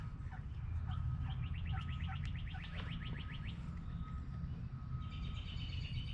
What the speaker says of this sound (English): Got a lot of bird singing today.